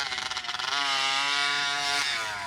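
RCMAX 80cc gas engine in a Raminator RC monster truck, buzzing loudly and climbing in pitch as it revs hard, holding a high whine before easing off, heard close and alone.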